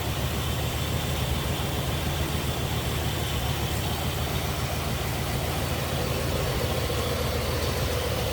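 Engine idling on a 1964 Chevrolet Impala SS with a 409 V8 and Edelbrock intake, heard from underneath the car: a steady, loud, low rumble that holds evenly throughout with no talk over it.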